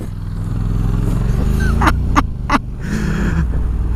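Honda NM4 Vultus motorcycle being ridden, its engine a steady low rumble throughout with brief louder bursts of wind or passing noise midway.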